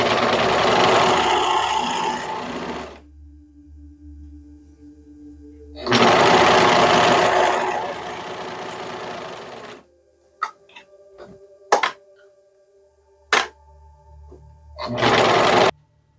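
Serger overlocking the edge of sweatpants fabric, loud close whirring runs in three bursts separated by quiet gaps, with small clicks and handling sounds between them.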